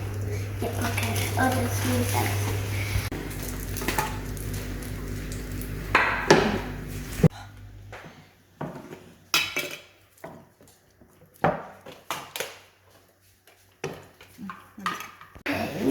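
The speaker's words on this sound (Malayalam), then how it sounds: "Just cut some like that." Green tomato is sliced with a knife on a cutting board, first under a steady kitchen hum with clatter, then a series of separate sharp taps spaced about a second apart.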